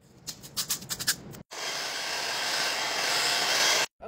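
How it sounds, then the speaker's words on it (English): A handheld hair dryer running on its cool setting blows with a steady, even whoosh for a few seconds, preceded by a quick run of rhythmic scratching and rubbing; no voices. "with the hair dryer, I'm also using it on cool."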